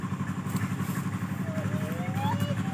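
A motorcycle engine runs steadily nearby, a low throbbing idle under continuous rural outdoor background, loud and unbroken throughout.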